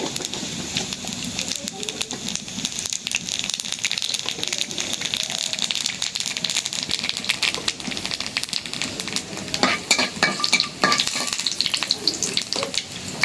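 Black cumin seeds hit hot oil in a pan and crackle into a loud, busy sizzle, with scattered pops and rattling spurts rising near the end.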